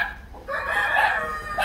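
Chickens and a rooster in a coop shared with ducks and turkeys, with one loud, close rooster crow rising after a short pause and a second call starting at the end.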